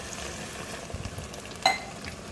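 Water poured into a pan of frying mixed vegetables for a restaurant-style eight-vegetable sabzi sets off a steady, close hiss of sizzling, with one sharp spatter near the end.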